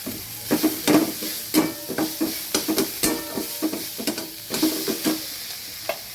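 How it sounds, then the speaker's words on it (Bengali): Crackling sizzle of garlic frying in hot oil with half-fried onion, broken by repeated sharp scraping strokes of a spatula stirring the pan at an uneven rhythm. "দিয়ে দিলাম রসুন রসুনটা ভাজা হোক"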